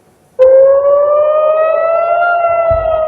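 An air raid siren warning of a missile attack in Israel starts abruptly after a brief quiet moment, then holds a loud, steady, slowly rising wail with no voices over it.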